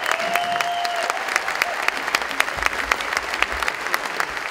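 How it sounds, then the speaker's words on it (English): Audience applause and cheering at a live songwriter tribute concert, a dense steady wash of clapping held loud for several seconds, with a brief sustained tone early and no speech over it. "So give yourselves a hand."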